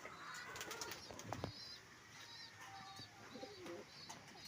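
Pigeons flapping their wings in loud bursts near the start, then low cooing calls, all fairly close, with faint background sounds and no clear speech.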